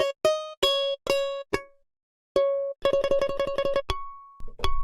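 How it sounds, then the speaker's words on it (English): Russian balalaika from the UVI World Suite virtual instrument, played alone: several separate plucked notes, then a quick tremolo run of rapid repeated strums and a final ringing harmonic, close and clear. "Balalaika."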